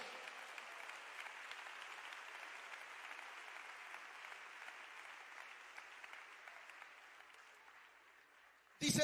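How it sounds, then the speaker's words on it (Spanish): A church congregation applauding, a sustained even patter of many hands clapping at moderate volume that fades slightly before a sudden loud burst at the end. "Den ese aplauso al Señor."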